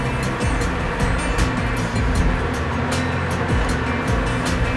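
Cooked winter wheat linguine poured with its starchy cooking water into a sauce pan, giving a steady, close rushing splash that runs continuously without talk.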